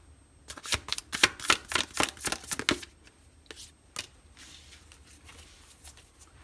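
A tarot deck is shuffled in a rapid burst of crisp card riffles and snaps for a few seconds. Softer single flicks and slides follow as cards are drawn and laid out, close by and with no talking.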